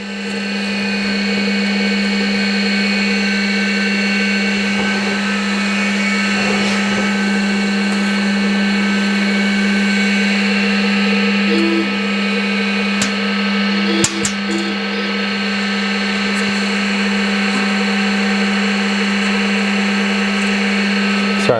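A metalworking machine, a sheet-metal brake fitted with a back gauge and run through a phase converter from single-phase power, drones with a loud, steady electrical hum and whine, joined by a few sharp metallic clicks near the middle.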